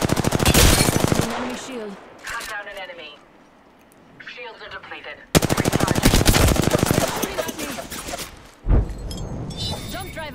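Rapid automatic gunfire in the shooter game Apex Legends comes in two loud sustained bursts separated by a quieter lull, with in-game voice lines spoken in between.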